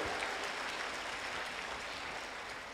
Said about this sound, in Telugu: గట్టిగా చప్పట్లు కొట్టి ప్రభువుని స్తుతించండి